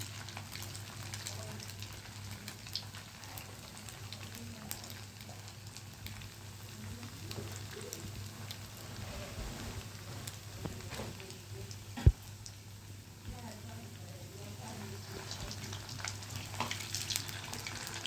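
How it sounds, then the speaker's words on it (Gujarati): Semolina and potato snack balls fry gently in oil over low heat, making a faint, continuous sizzle and fine crackle with one sharp click partway through. "હવે ધીમે તાપે હું તળું છું"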